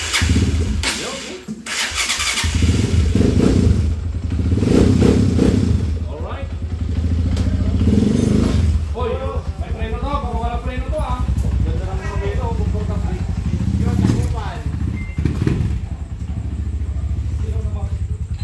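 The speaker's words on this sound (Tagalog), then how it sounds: "Test drive na natin mga bossing itong Alpha 125 from Ilocos Sur." A Honda Alpha 125 motorcycle converted to 175cc starts and revs on a test ride, its engine rising and settling in loud, uneven bursts up close while someone talks over it.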